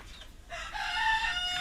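A Hejazi rooster crows loudly and close by, one long drawn-out call with a short lead-in, among a flock of Hejazi chickens.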